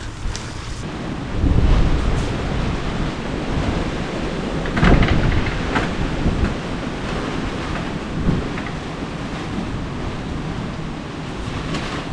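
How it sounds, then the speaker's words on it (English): Strong wind roars and buffets steadily, with loud gusts rumbling across the microphone throughout, alone with no voices. "This wind is just, yeah, windy."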